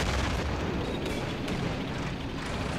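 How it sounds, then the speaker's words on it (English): Heavy, continuous rumble of mortar and artillery fire from a World War II real-time strategy battle in Men of War, dense and booming throughout with no clear pauses between blasts. "I'll try to get it with my mortar now"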